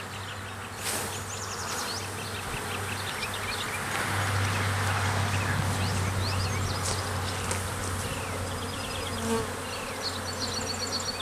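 Honey bees buzz around an open hive during requeening, a dense steady drone of many wings with individual bees zipping close past, continuous and moderately faint outdoors.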